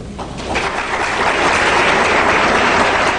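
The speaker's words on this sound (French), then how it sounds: "Des applaudissements polis." A crowd claps politely and steadily, a dense even patter of applause that swells a little and holds, with no voices over it.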